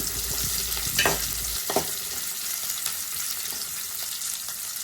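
Ginger, garlic and green chili frying in oil for a beef curry, with a steady hiss and sizzle broken by a couple of scraping stirs near the start, close and fairly loud.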